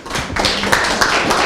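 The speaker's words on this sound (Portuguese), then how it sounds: "Forte aplauso." Strong applause from an audience at a ceremony, a dense broadband patter of many hands clapping steadily for about a second and a half, loud and close with no talk over it.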